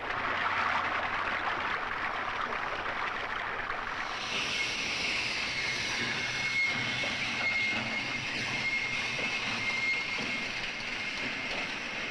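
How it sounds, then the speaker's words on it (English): An oil tank train rolls past at a steady distance, a continuous rumbling hiss of wheels on track with a faint high squeal, no talking. "These trains are called petroleum dragons."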